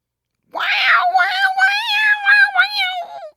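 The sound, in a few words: person imitating a screeching cat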